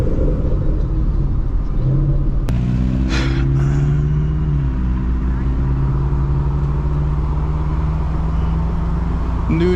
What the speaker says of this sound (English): We got a new gen Mustang.